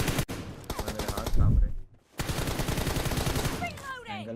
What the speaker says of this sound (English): somebody is already throwing up bullets here